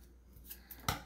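Scissors snip through folded paper, cutting a triangular notch; a few soft, brief snips with one sharper cut near the end, close and quiet, no talking.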